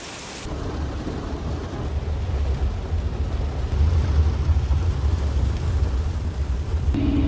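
Rain falls steadily during a thunderstorm, a loud continuous wash under a deep low rumble of thunder that swells midway, with no one speaking.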